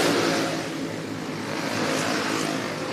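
Racing karts roar around the Daytona flat track at Daytona Kart Week, a dense, steady wash of engine noise holding loud throughout with no clear gaps or single passes.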